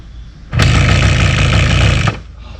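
A Kawasaki kickstart motorcycle engine catches and runs for about a second and a half, giving a loud, close, rapid putter that cuts off abruptly.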